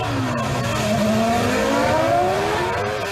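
Formula 1 race cars from the 2005 season, a McLaren and a Renault, scream past in close pursuit, their rising and falling high-revving engine notes sustained and loud throughout, with a steady pitch sweep as they pass.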